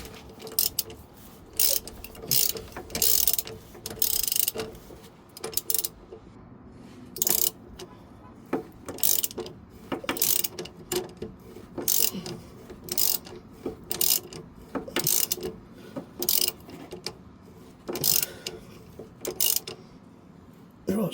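A socket ratchet turns the drag link on a Peterbilt 352 truck's steering, giving repeated bursts of sharp clicking strokes in an irregular rhythm over a quiet workshop background.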